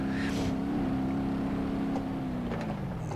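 Satsuma 210 engine in BeamNG.drive revving hard while the inner tire spins up through a corner, a loud steady engine drone with a slowly falling pitch, continuous and close.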